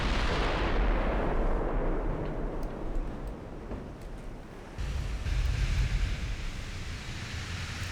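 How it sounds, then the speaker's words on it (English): Naval shells firing and exploding in the battleship game Ultimate Admiral Dreadnoughts, during a battlecruiser encounter: loud, sustained booming rumble with rolling low-end blasts and a fresh surge near the end, no talk over it. "Enemy shells almost hit me. Let's see what my shells do."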